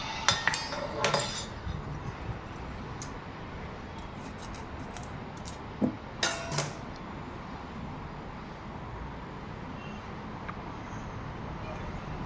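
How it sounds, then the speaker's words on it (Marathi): Knife cutting carrots into small pieces on a board for a carrot sweet, heard as a few sharp clinks and taps early on and midway over a steady low kitchen background. "मी बारीक त्याचे तुकडे करते"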